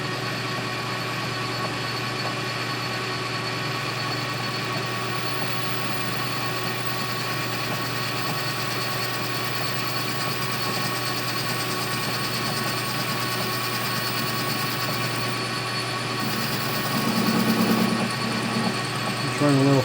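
A machine running steadily during a plunge cut while building a slow speed grinder: a loud, even mechanical drone with a constant whine that shifts slightly near the end.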